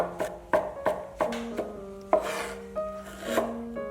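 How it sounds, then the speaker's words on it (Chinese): A knife chopping bird's eye chili into rings and mincing scallion and garlic on a cutting board, sharp regular knocks in a quick steady rhythm, close and clear with no talk. "2根小米椒切成圈，1小段大葱切成末，几瓣蒜也切成末"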